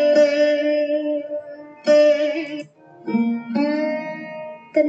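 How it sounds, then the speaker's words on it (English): Santur, a hammered dulcimer, played in three bright struck phrases with ringing, sustained overtones that decay between strikes, fairly loud and close with no talking. "This was the sound of santur."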